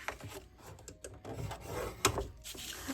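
Paper for a 6x6 mini album with 3D pages is scored at half-inch marks, producing soft, brief scraping strokes and light handling rustles, close and quiet.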